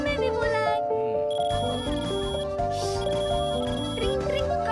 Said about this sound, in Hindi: ट्रिंग ट्रिंग कान पट रहा है। ये बकवास रिंगटोन है।